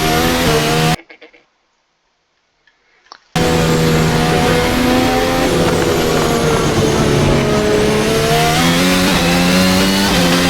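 Onboard engine of a 2025 Formula 1 race car: a loud, steady high-pitched wail whose pitch rises and falls, cutting out briefly near the start before returning at full volume with no voices.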